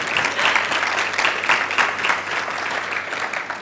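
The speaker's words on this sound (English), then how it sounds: "How about a round of applause for all the women in the room?" Steady audience applause in a conference hall at the Connecting Curious Minds 2019 talk, moderately loud, continuous clapping that swells early then gradually thins.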